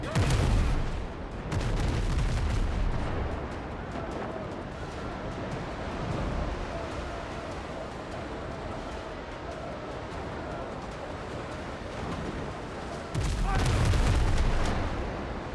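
Naval battle in the pirate video game Windrose, with cannon fire booming over crashing waves and rushing wind, loud blasts clustered near the start and again near the end, a steady roar of sea and sail between them.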